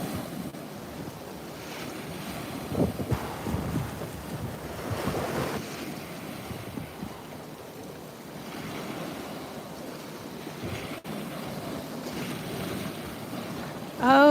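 Ocean waves wash and roll along the shore in San Diego, a steady broadband surge mixed with wind rumbling on the microphone, heard alone with no talk.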